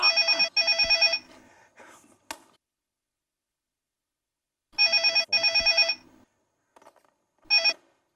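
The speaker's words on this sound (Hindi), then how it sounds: "फोन बज रहा है।" Telephone bell ringing indoors in two loud bursts of rapid double rings with quiet gaps between them, plus a short final ring, with no voices.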